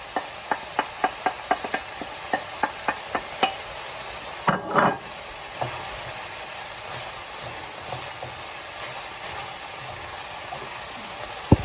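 Holy basil being stir-fried for Thai pad gaprao, a run of evenly spaced metallic spatula taps against the pan over a constant sizzle, then a louder tossing clatter and a steady close fry with no talking.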